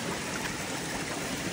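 Rainwater streams along a muddy hiking trail on the Appalachian Trail, a steady broadband rush and trickle of flowing water, close and continuous throughout.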